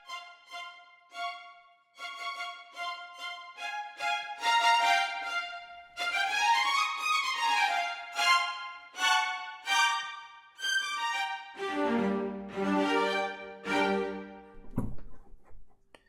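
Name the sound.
short staccato string samples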